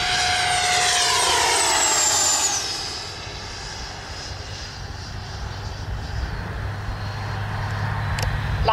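An FMS Integral 80mm electric ducted-fan RC jet on a high-voltage lithium pack screams past at full speed, a loud rising whine that drops in pitch as it passes and fades into distant rushing noise.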